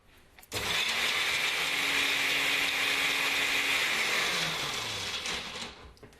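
A kitchen blender grinds pistachios and garlic for a vegan dish, a loud steady whirring roar that starts abruptly, holds for several seconds, then winds down.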